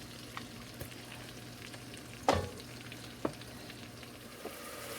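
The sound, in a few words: mushrooms and garlic frying in butter and margarine, stirred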